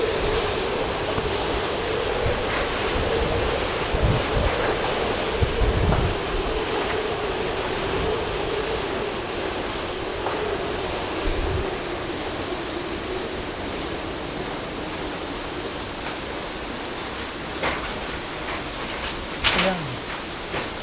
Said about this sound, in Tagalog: Malalim talaga, ay mahangin talaga.